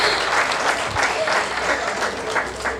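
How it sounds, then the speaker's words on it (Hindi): Thick, sustained applause from an audience at a Hindi comedy poetry recital, a steady wash of many hands clapping close and loud throughout the short stretch. "मेरे स्वागत और सम्मान में जो आप सबने ये घनघोर तालियां बजाई हैं ना"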